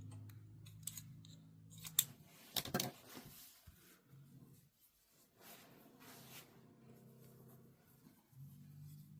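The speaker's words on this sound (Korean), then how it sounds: "끝부분의 실은 길게 빼어내서 잘라주세요" Scissors snip through the end of crochet yarn while finishing a card wallet worked in single crochet, giving a couple of sharp close cuts around the two-to-three-second mark amid quiet handling of the fabric.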